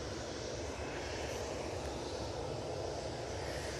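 An airliner arriving from Istanbul on approach to Manchester Airport, a steady broadband engine roar filling the scene without pause, moderately loud and fairly close, with no voices over it.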